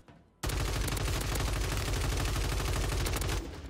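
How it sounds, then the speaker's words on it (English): Rapid automatic gunfire in Warzone 3 rattles in a long, loud, sustained burst of closely spaced shots. It starts suddenly after a quiet moment and fades slightly at the end. "Why are you shooting at me?"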